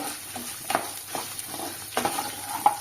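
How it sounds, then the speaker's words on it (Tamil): Small onions sauté in a pan for curry leaf thuvaiyal, a soft steady sizzle with occasional stirring scrapes, close and alone. "இது அப்படியே வதக்க தானே போகிறோம்"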